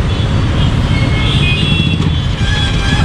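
Busy Bangalore road traffic on a holiday return day, a dense continuous rumble of cars, buses and motorbikes close by, with engine drone and a faint horn tone over loud roadway noise.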